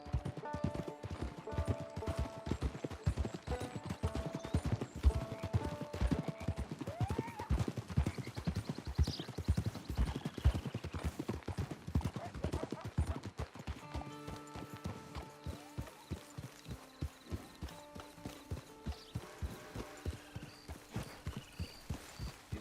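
Horse hooves clip-clop steadily in Red Dead Online, a close, rhythmic trot that runs throughout with faint game ambience behind it and an occasional horse snort.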